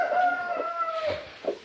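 A rooster crows in a spacious yard where it roams freely, one drawn-out call rising and falling over about a second, close and loud, followed by a few short clucks.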